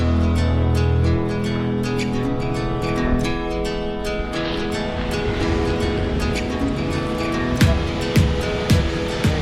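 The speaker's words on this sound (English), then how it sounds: "There's just a little offshoot that you can walk down and see Juneau Falls waterfall." Juneau Falls, a large waterfall on a trail in Alaska, roars in a loud, steady, unbroken rush of falling water with a few faint clicks and knocks over it.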